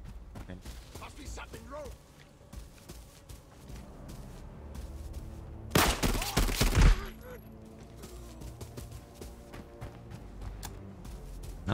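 Burst of automatic gunfire from a Vector submachine gun fitted with a drum magazine and firing 9x19 rounds in the mobile shooter Arena Breakout, a loud rapid volley lasting about a second amid quieter game ambience and scattered footsteps.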